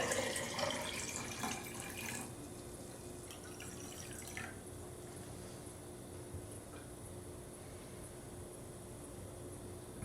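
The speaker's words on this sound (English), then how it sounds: "Next, we're going to add 3 cups of cold water." Cold water pouring into a pot of dissolved sugar liquid, a splashy rush for the first two seconds, then a softer steady trickle that fades to a faint hiss; no talking.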